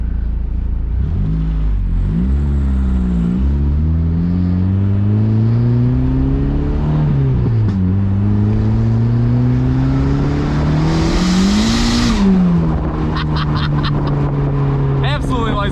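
A turbocharged K-swapped Mazda Miata revs hard on a dyno, loud and close, its engine pitch climbing through repeated pulls with sharp drops between gears and a burst of turbo hiss near the end.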